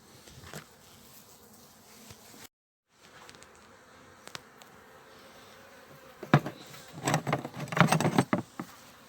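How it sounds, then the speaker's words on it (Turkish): Honey bees buzz steadily around an open hive during a November colony inspection after formic acid treatment. The buzzing is close, with a brief break, and swells into louder, busier bursts toward the end. "Evet arıların durumu bu."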